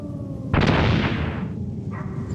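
A grenade blast in the video game Metal Gear Solid: one loud, broad explosion bursts out and rumbles for about a second before decaying, over steady game background noise.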